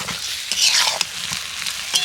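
Potatoes frying with spices in a pan and stirred now and then, a steady close sizzle with scraping stirs breaking through at intervals.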